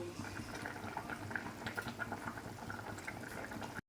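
Fish curry gravy bubbles in a pot, a soft, continuous simmering burble heard up close and fairly quiet throughout.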